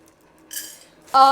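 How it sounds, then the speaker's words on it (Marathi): Soybean grains roasting in a pan give off a soft rustle, then a metal utensil clinks sharply against the pan near the end, close and fairly loud. "पहिले आपल्याला सोयाबीनच्या दाण्यांना असं परतून घ्यायचं आहे"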